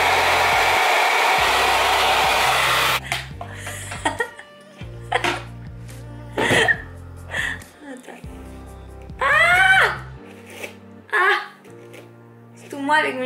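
A hair dryer fitted with a curl diffuser roars on its high setting for about three seconds, then shuts off; someone talks afterward, with a cough and light laughter.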